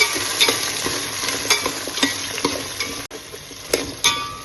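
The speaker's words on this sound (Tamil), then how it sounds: "இதுலேயே பச்சை மிளகாயும் போட்டுக்கணும். பச்சை மிளகா நல்லா வதங்கணும்." Green chillies sautéing in a hot pan for a curry leaf chicken fry make a loud continuous sizzle, with metallic scrapes and taps of a spatula stirring at intervals and no voices.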